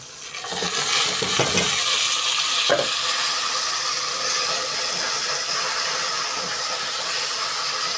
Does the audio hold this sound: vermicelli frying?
yes